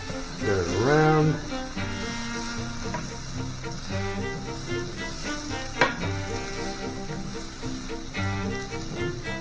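Garlic frying in a hot pan with a steady, close sizzle, broken by a few scrapes and clinks as it is stirred, with some faint background sounds.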